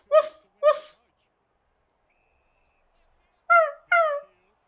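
Someone imitates a dog barking with four short woofs in two quick pairs, separated by a few seconds of silence.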